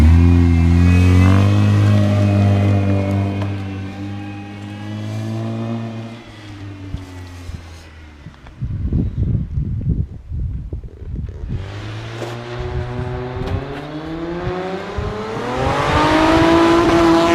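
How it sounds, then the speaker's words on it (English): A manual Honda with a loud aftermarket exhaust revs hard in first gear on a flyby, the engine note climbing, cutting off with popping, then winding up loud again close by. "Just a regular first gear flyby, because this is manual."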